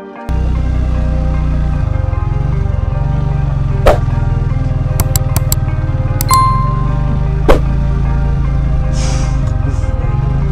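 Motorcycle riding through water puddles on a muddy road, a steady close low engine drone with faint metallic clinks and a few brief splashy knocks.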